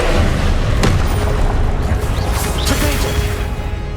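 Spell-casting in the Hogwarts Legacy video game: an Expelliarmus disarming spell goes off as a loud booming crack with sharp impact hits, set against a dense, steady rumble of combat noise.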